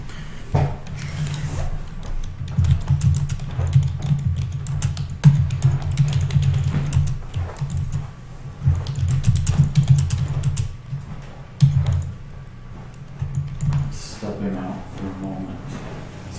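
Rapid clicking of keys on a computer keyboard, typed in bursts with short pauses, with faint voices murmuring underneath.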